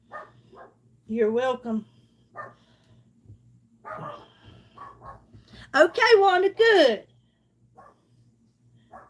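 A pet dog barks and yips in a couple of loud bursts, with a whimper mixed in, while someone talks calmly indoors between the outbursts.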